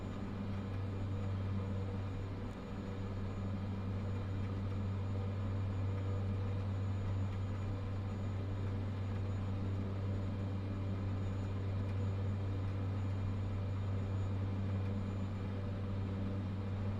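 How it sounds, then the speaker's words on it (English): Airliner rolling out on landing with reverse thrust in Microsoft Flight Simulator 2024, a steady deep engine roar and rumble holding at constant loudness throughout, with no talk. "just reverse thrust to slow us down"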